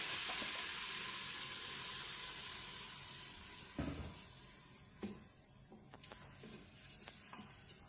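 Pepper and cumin sizzle steadily in a hot pan, a dense continuous frying hiss, before rice goes in and a few soft clatters and stirring bumps break through near the end.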